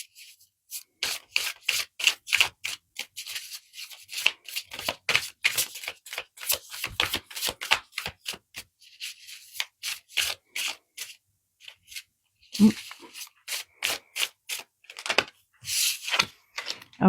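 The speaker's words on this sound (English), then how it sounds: "I'm going to give it a good riffle shuffle." Rapid, crisp riffle shuffling of a deck of oracle-style guidance cards, repeated in several bursts with short pauses between, close and fairly loud.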